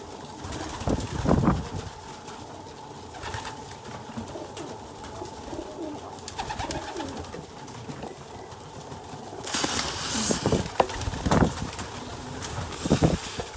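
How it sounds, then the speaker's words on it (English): Pigeons coo and murmur steadily while being fed in a hallway, a continuous close chorus of soft cooing with brief flurries and rustles, louder bursts near the end. "Feed pigeons."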